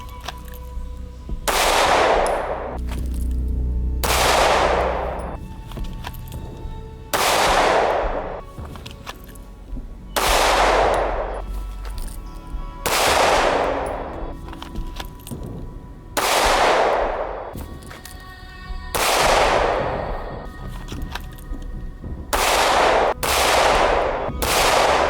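Pistol shots ring out one at a time during target practice, about a dozen loud, evenly spaced reports with ringing tails and short pauses between them.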